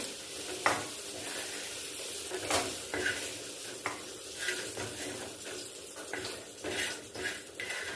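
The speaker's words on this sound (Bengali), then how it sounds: "একটু হালকা করে ভেজে নেবো। টমেটোটাও দিয়ে দিচ্ছি। এগুলো সব একটু ভেজে তুলে নিচ্ছি।" Vegetables and tomato fry in a pan for a Bengali cabbage and cauliflower curry, a steady close sizzle broken by repeated stirring scrapes and pan clinks, with no voices.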